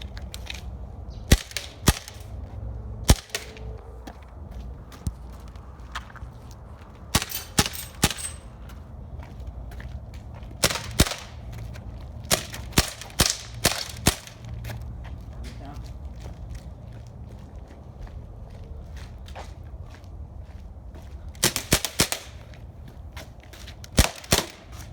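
Airsoft M9 Beretta non-blowback replica pistol firing outdoors at garbage cans, sharp dry snapping shots scattered irregularly in singles and quick clusters, close and crisp over faint background noise.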